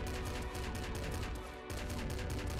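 Rapid gunfire from a heavy revolver in the game Nuclear Throne Ultra Mod, a dense run of quick repeated shots close and loud, with a brief gap before the firing resumes.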